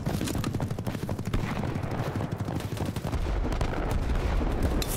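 Gunfire in the first-person shooter BattleBit Remastered, sharp shots cracking over a dense battlefield din of distant firing and rumble, continuous and loud with no voices.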